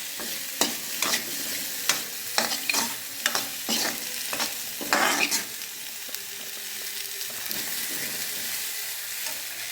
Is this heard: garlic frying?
yes